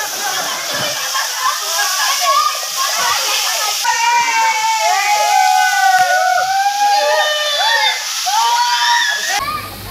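Water splashing and rushing at Chhagolkanda waterfall, a steady close wash of falling water with children's voices and shouts calling over it throughout.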